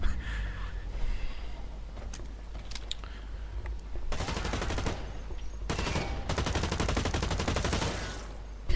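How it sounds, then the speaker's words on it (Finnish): Gunfire in the video game Blacklight Retribution comes in dense automatic bursts, loud and close, with shorter separate shots before them. "Ammuttu, kaikki laukaukset hutii."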